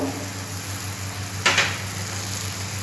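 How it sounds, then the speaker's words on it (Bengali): Ground coriander and cumin powder hit onion and tomato frying in a pan, giving a short, loud burst of sizzling midway over a steady low cooking hiss. "পেঁয়াজ টমেটো ভালো করে সেদ্ধ ভাজা হয়ে গেছে। এবার আমি দিচ্ছি ধনে গুঁড়ো, জিরে গুঁড়ো"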